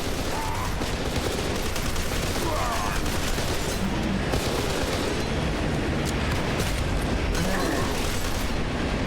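Dense, continuous gunfire and explosions of grenades fill a firefight in the video game F.E.A.R., a loud unbroken barrage of shots and blasts with no pauses.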